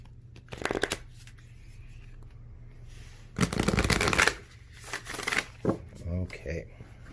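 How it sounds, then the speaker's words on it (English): A deck of tarot cards is shuffled by hand in several crisp, rustling riffle bursts, close up, against a steady background hum, with a voice faintly present at times. "let's get one more shuffle"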